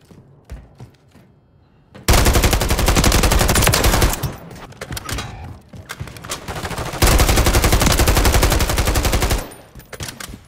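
Machine gun fire in Call of Duty Modern Warfare 3, long loud sustained automatic bursts close up, broken by a short lull, with faint game sounds before the shooting starts.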